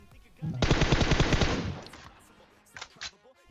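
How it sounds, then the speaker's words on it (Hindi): Rapid automatic gunfire from a shooter video game, a loud burst of about a dozen close shots lasting over a second, then a couple of short sharp sounds afterward. "अब यहाँ पे जब मैं गोली चलाता हूँ"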